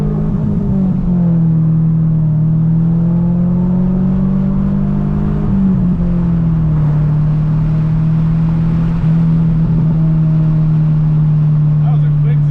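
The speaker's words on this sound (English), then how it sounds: "That was a quick 0 to 60." A Y2K-era car accelerates hard, its engine note rising and holding steady as a loud, continuous tone, with shifts in pitch partway through; exhaust pops are not clearly distinct.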